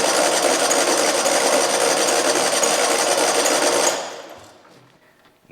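A long-abandoned zero turn mower engine cranks in a steady, rapid buzzing whir for about four seconds without catching, then winds down and falls silent; loud and close.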